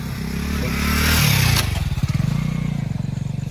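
A motorcycle engine comes in loud and close, its rough throttle building before the pitch drops into a steady pulsing idle as the bike pulls up nearby, with no talk over it.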